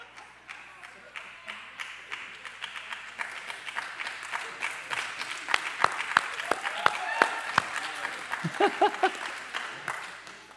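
An audience claps in a large gathering, with scattered sharp claps building into fuller, louder applause over about ten seconds and a murmur of crowd voices underneath.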